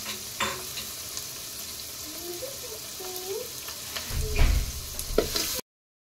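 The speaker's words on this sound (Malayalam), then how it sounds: "ഇത് എണ്ണ ചൂടായി, ചതച്ച് വെച്ചിരിക്കുന്ന ചുവന്നുള്ളി കാന്താരി ഇടും. നന്നായിട്ട് അങ്ങ് ഇളക്കി കൊടുക്കാം കേട്ടോ." Crushed shallots and bird's eye chili sizzle in hot oil while being stirred in a pan, a soft steady frying hiss with occasional scraping and clinks of the spoon toward the end.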